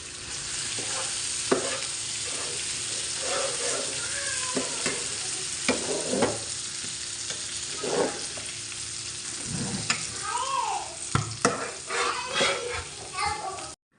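Cooked duck meat reheats in a pan at home, sizzling with frequent scrapes and stirs of a spoon, while children's voices and other talk carry on throughout.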